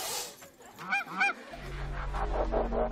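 A goose honks in a few loud, nasal calls, followed by a steady low hum that continues to the end.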